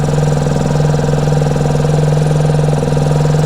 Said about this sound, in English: The bike is starting